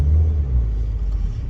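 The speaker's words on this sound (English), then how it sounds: "the car does drive better with new tyres on it. It's quieter, it feels a bit nicer" Car with new tyres cruising in afternoon traffic near Penrith, a steady low rumble of engine and road noise filling the cabin, even and continuous without revving.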